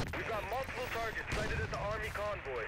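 Gunfire and explosions from the video game Crysis 2 rattle in quick bursts, loud and punchy, with a voice talking over the shooting.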